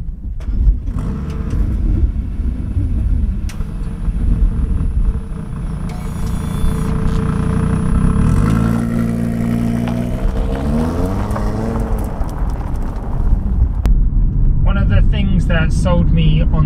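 An Audi RSQ3 runs continuously with a low engine rumble and rises in revs as it sets off, while a person talks over it throughout.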